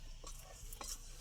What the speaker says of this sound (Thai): คน